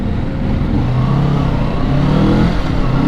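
In Manila traffic, a motorized tricycle engine drones loud and close, with a rough mid-pitched note that rises and falls as it revs over constant road noise.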